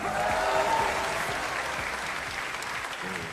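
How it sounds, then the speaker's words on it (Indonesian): A studio audience at an Indonesian talk show taping applauds the guests, dense steady clapping filling the room for a few seconds at a fairly even level. "Tepuk tangan sekali lagi dong"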